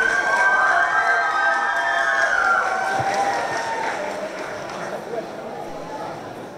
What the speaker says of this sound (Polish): Gromkie brawa.